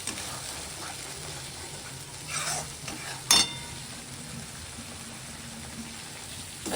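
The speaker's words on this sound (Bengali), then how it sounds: "মশলাটা একটু ভালো করে কষিয়ে নেব।" Masala spices sauté quietly in a pan for a prawn and egg biryani, a soft, even sizzle with a couple of brief scraping bursts as the mixture is stirred.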